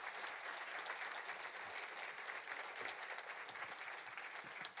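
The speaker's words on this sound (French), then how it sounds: "Applaudissements pour Bruno Parmentier et cette excellente présentation" An audience at an agricultural conference claps steadily and densely after a presentation. The applause stays even throughout, from a moderately distant crowd.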